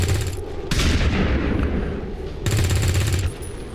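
Gunfire in XCOM 2 (Long War 2 mod): dense bursts of rapid shots and booms in two loud volleys, with a brief lull between them, no talk over them.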